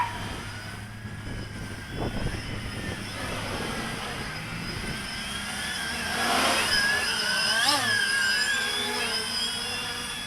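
Walkera QR X350 Pro quadcopter drone with a Mini PX4 flight controller flying outdoors, its motors giving a steady whine that rises and bends in pitch as it maneuvers, growing louder around the middle before easing off.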